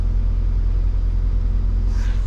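A UAZ Patriot with automatic transmission runs just after a cold start, a loud, steady low rumble close by with a faint higher whine near the end.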